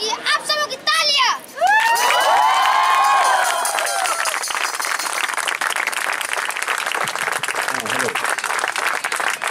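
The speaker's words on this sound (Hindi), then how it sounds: "आप सबों की तालियां।" An outdoor crowd at a street play with child performers applauds and cheers. A voice speaks first, then children shout and whoop, and loud, sustained clapping follows.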